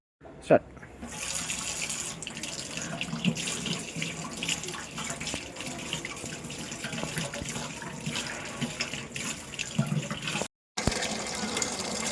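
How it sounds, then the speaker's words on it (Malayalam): Water runs steadily from an open tap into a sink, a continuous close splashing flow lasting the whole stretch with a brief cut near the end, while voices talk over it. "നീ എന്തിനാ ടാപ്പ് തുറന്നിട്ടിരിക്കണേ? ടാപ്പ് അടിക്ക്. വെള്ളം പോകുന്ന കണ്ടില്ലേ?"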